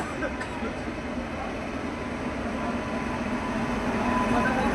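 A passenger train on the Vadnagar–Mumbai line rumbles steadily, with a broad continuous roar and rail noise building slightly louder toward the end, and no voices over it.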